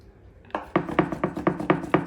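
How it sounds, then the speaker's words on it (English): A knife chopping fruit and vegetables on a board for papaya salsa, about seven evenly spaced crisp chops ringing out close and clear with no talking. "And then on the angle, chop them down."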